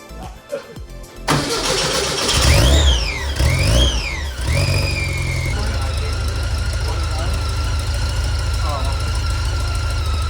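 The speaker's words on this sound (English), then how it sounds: "Supercharger's real loud." A supercharged Volkswagen Bus engine with an AMR-500 supercharger cranks and roars to life, revving loudly with a rising and falling whine, then settles into a loud, steady idle.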